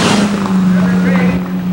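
A Toyota Corolla race car crosses the line to win a four-hour 1998 BF Goodrich endurance race at Subic Bay, its steady engine drone loud and continuous beneath an excited commentator's voice.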